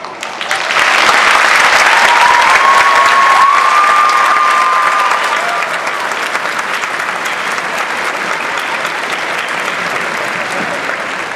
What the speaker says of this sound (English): I ask you to stand and give a round of applause